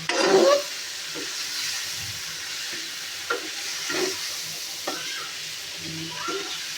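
A spoon stirring white milk sweets in a pan, soft scraping strokes and light sizzling at an irregular pace, close and moderately loud, with a louder clatter at the start.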